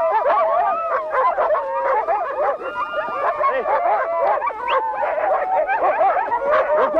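A pack of sled dogs in the winter Siberian taiga barks, yips and howls together, a loud, continuous, overlapping chorus close by.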